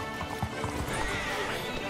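Horse in the Red Dead Online video game galloping with steady clip-clop hoofbeats and letting out a whinny, fairly loud and close, with a voice briefly audible underneath.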